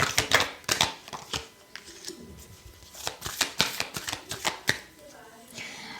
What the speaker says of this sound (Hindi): जब भी ये कार्ड्स शफलिंग आपको दिखती है